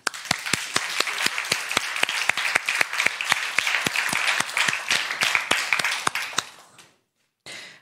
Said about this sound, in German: Und wir begrüßen mit einem tosenden Applaus auf der Bühne